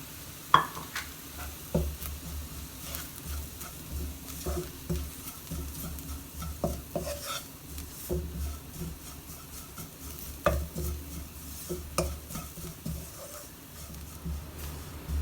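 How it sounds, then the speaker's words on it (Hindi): Flour being stirred into spices cooking in a pan for stuffed chicken buns, with a soft continuous sizzle under repeated scraping strokes of a spoon against the pan, close and moderately loud, with no talk. "इसको थोड़ा सा पकाते हैं। अब हम इसमें डालते हैं मैदा,"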